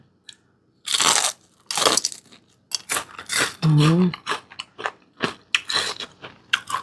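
Loud, close crunching bites and chewing of small white pomfret fried with garlic, coming in repeated sharp bursts with short pauses between them.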